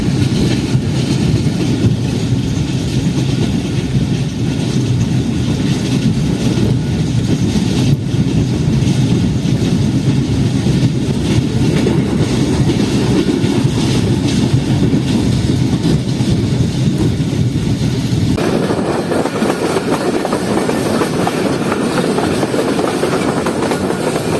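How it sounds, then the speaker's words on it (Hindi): The Shalimar Express runs on its rails, heard from inside an AC Standard coach in Sindh as a loud, continuous low rumble with faint clicking. Midway the tone shifts and the deep roar thins out while the motion continues. "हमारी ट्रेन पहुंच रही है खैरपुर रेलवे स्टेशन पर।"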